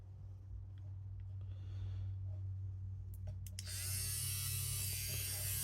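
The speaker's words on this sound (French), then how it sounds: "Je vais le faire à la Dremel." A Dremel rotary tool grinds a silver ring being sized for a bezel-set opal, a close, steady high whine with a low motor hum that grows louder and harsher as the bit bites into the metal.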